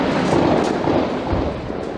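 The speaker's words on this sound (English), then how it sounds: "Explosives and gunfire rang out." Gunfire and explosions during a school siege stormed by Russian security forces, a dense loud barrage of cracks and booms packed together without pause.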